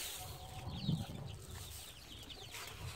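A farm hen raising a hatched pheasant chick gives soft, low clucks, faint and close, with occasional chirps from the young bird.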